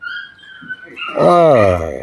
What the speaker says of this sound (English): that little dog